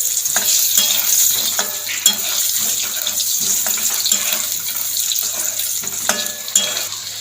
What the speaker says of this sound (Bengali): এবার সেদ্ধ করা গাটি কচুগুলো তেলের মধ্যে দিয়ে দেবো, নেড়ে চেড়ে ভেজে নেবো গাটি কচুগুলোকে।